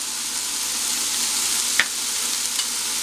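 Low-sodium soy sauce hits a hot pan, a steady close sizzle with one sharp splash-like hiss partway through, then the frying carries on evenly.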